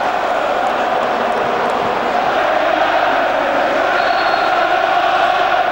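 Big football crowd at the Hawthorns for West Bromwich Albion against Crystal Palace, a dense, steady roar of thousands of fans filling the stadium without a break.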